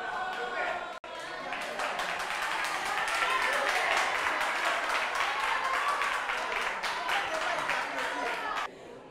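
Sustained audience applause, a dense, even patter of many hands that starts after a brief pause, swells and holds steady for several seconds, then cuts off abruptly. Some voices can be heard through it.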